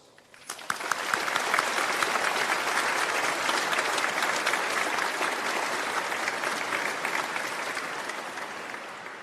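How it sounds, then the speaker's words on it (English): A graduation ceremony audience breaks into applause, clapping that builds quickly from a few hands into a full, dense, sustained round that stays loud and steady. "it would be appropriate for us to have a round of applause."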